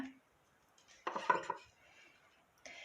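A small cooking pot taken from the refrigerator is handled in a home kitchen, giving a few quiet metallic clanks and scrapes in a short cluster, with a faint clink near the end.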